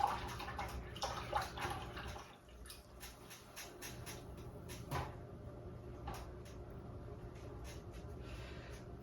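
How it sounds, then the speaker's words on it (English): Paintbrush rinsed and swished in a water container, with quiet splashing, drips and knocks against the container, close and fairly faint, stopping and starting over several seconds. "Okay, I'm gonna rinse my brush out."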